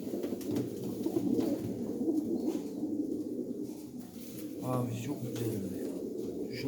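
Champion pigeons coo nearby in a loft, a soft continuous rolling coo that runs throughout, with a person talking over it.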